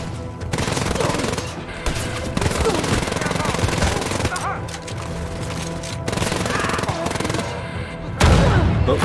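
Dense, continuous rapid gunfire and blasts from the video game Wolfenstein: Youngblood fill the clip, loud and busy throughout, with a heavier grenade boom near the end.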